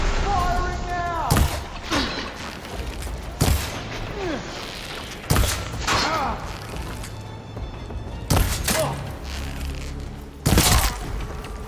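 Gunfire in Horizon Forbidden West: five loud, sharp blasts spaced a couple of seconds apart, each with a booming tail, over a busy background of game effects and voices.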